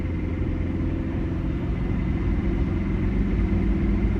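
Diesel engine of a Toyota Kijang Kapsul with an aftermarket air filter, running at about 3000 rpm while cruising near 105 km/h: a steady, loud low rumble and drone with road noise, continuous and without talk.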